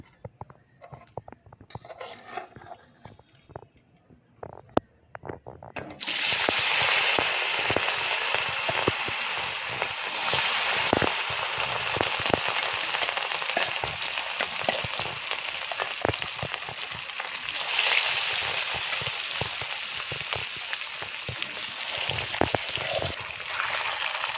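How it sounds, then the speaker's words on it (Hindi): Fish frying in hot oil in a kadai, village-style: after a few quiet seconds with faint clinks, a loud, steady crackling sizzle bursts in and holds close and unbroken to the end. "एबे आमे माछ को फ्राई करबा"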